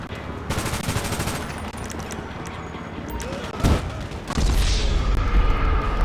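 Dense gunfire in the online game GTA Online, rapid automatic bursts and a heavier blast, loud and continuous with a low rumbling boom near the end.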